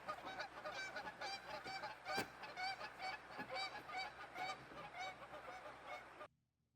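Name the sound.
geese honking at a campsite at night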